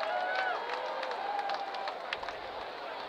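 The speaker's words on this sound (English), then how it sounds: "Crowd with a sarcastic round of applause." A baseball crowd at a Columbus versus Iowa game gives a sarcastic round of applause, a distant, steady patter of scattered clapping spread across the stands over a low crowd murmur.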